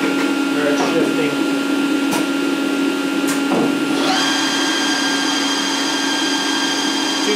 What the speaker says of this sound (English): These Bridgeport Torq cuts just have noisy spindles, especially when they have the transmission option.